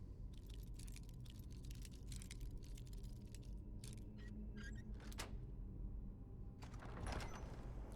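An apprentice-level locked door in Skyrim creaks and grinds open with soft mechanical clicks and a short latch rattle, faint and low against a quiet dungeon hum.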